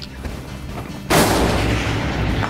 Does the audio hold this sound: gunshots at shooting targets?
yes